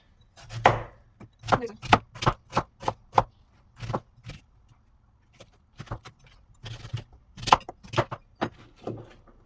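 A knife trimming and chopping a large kohlrabi on a board in a home kitchen, a run of sharp, close knocks in uneven rhythm with a short pause midway, no talk.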